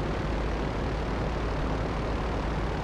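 Idling aircraft engines on short final approach in the video game GTA 5, a steady, dense broadband rumble with low drone holding at constant loudness throughout, no voices.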